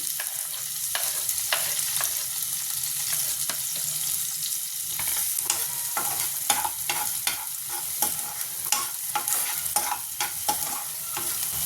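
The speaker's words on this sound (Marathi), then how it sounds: "तेल गरम झालं आहे आता याच्यात आपण आधी कांदा परतून घेऊ" Onion frying in hot oil for a Marathi fish curry, a steady close sizzle with frequent scraping clicks from stirring running through the whole stretch, no talk.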